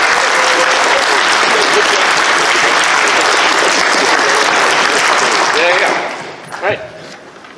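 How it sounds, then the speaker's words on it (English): A crowd applauds loudly and steadily for several seconds, then the clapping fades out to a few scattered claps. "All right, round of applause."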